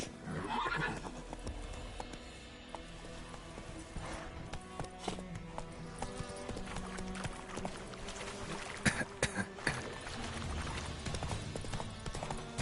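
Roach the horse neighs in the video game The Witcher 3: Wild Hunt, a whinny at the start over steady hoof clip-clop and a noisy ambient bed, fairly faint overall.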